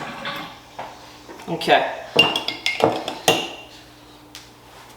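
Metal cutlery rattled and clinked while someone picks a new spoon from a kitchen drawer, a run of sharp close clatters and a drawer knock, with a brief spoken word.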